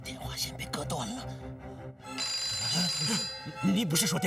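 A telephone rings inside a residence under attack in a Chinese anti-Japanese war drama, its bell tone coming in around the middle of the clip, mixed with voices and dramatic background sound.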